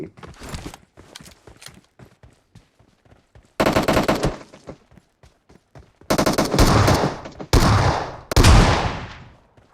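Bursts of PUBG Mobile gunfire: scattered single shots early on, then several loud sustained rapid-fire volleys, including shotgun fire, with no talking.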